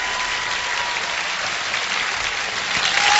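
Applause from the studio audience in the Pole Chudes (Field of Miracles) video game, a steady, dense clapping that holds throughout and swells slightly near the end, with no speech over it.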